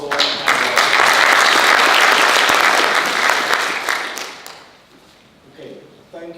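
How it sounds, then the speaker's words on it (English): An audience at a renewable energy forum claps in a loud, dense burst of applause that holds for several seconds and then fades away, with a voice briefly heard afterward. "Big round of applause for"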